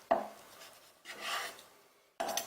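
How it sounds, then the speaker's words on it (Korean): A knife cuts a boned fish fillet to size on a board for sweet-and-sour fish, three soft, close slicing strokes with short gaps of quiet between them. "그 다음에 얘도 사이즈 맞춰서 썰어줄게요"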